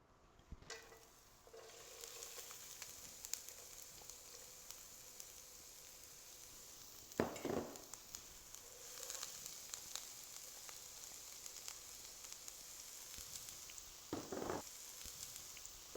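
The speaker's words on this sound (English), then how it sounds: "I'm just going to start cooking off my onions and carrots" Onions and carrots fry in oil in an electric fry pan, giving a faint, steady sizzle throughout, broken by two brief louder scraping stirs partway through.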